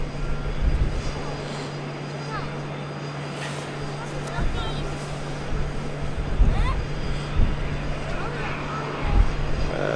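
Distant aircraft engine noise at a busy airport, thought to be a LATAM cargo plane, rumbles steadily with a constant low hum, while voices talk intermittently over it.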